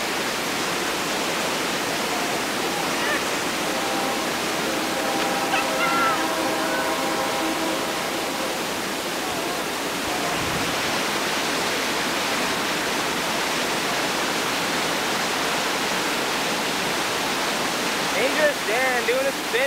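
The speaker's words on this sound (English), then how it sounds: "Also above the waves, maybe you can hear the train coming through" Rushing rapids on the New River Gorge roar steadily and loudly throughout during a rafting trip, a dense, unbroken wash of churning water close by.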